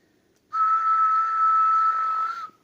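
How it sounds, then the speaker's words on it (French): A single sustained, steady whistle tone into a radio microphone lasting about two seconds, clear and close, starting and stopping abruptly against silence. "Je vais donner un petit coup de sifflet."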